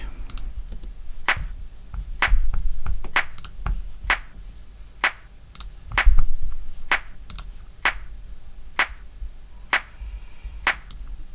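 Sampled clap in an electronic track, sharp dry hits repeating in a steady rhythmic pattern with softer ghost clicks between them, fairly quiet and alone.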